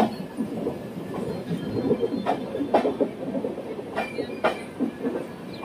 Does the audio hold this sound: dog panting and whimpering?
no